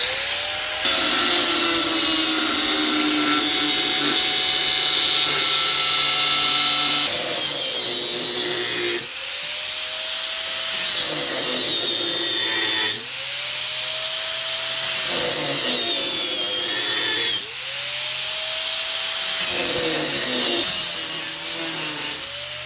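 An angle grinder cutting the brackets off a Doodle Bug minibike frame, a loud, harsh whine of metal cutting held in long stretches, with the motor briefly dropping and spinning back up several times, close and without talking.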